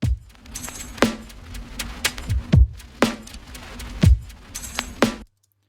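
A sparse electronic drum pattern in Ableton Live with punchy low kicks and sharp clicky hits in a steady groove, ending abruptly.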